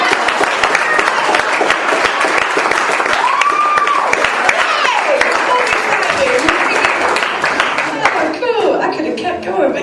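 Lively audience applause after a poetry reading, dense clapping sustained for several seconds with a whoop and crowd voices mixed in, tapering slightly at the end.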